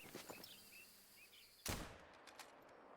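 A single .22 rifle shot fired in theHunter: Call of the Wild rings out as one sharp, loud crack with a short decaying tail, preceded by quiet outdoor ambience with faint bird calls.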